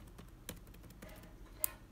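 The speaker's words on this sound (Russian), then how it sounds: "Здесь, соответственно, у нас идет с вами проверка клавиатуры." Keys pressed one after another on a computer keyboard during a key test, soft scattered clicks with one sharper tap near the end, faint and close.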